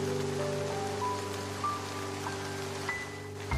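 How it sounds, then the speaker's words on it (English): Heavy rain pours in a steady, dense wash, with faint sustained musical tones layered over it and no talking. "Rain was pouring heavily on both of them."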